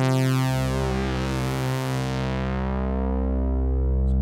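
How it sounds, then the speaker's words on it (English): Buzzy, bright sawtooth tones from a UADx Opal morphing synth layered into a thick sustained chord, distorted and swirling, holding steadily loud throughout. "This is a bunch of sawteeth"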